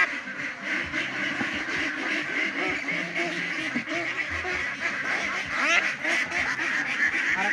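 Ducks quacking loudly and continuously at close range, several birds calling over one another, with faint voices in the background as they are handled for a cholera vaccination.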